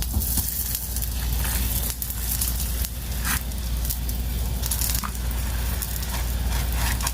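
Besan roti sizzling on a hot griddle with a little ghee, a steady close crackle and hiss with no talking.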